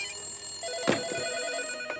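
A telephone rings with a bright repeating bell tone, one short burst near the start and another near the end, moderately close in a quiet room, with no talk.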